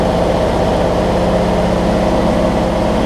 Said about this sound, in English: I got it started and I got it idling.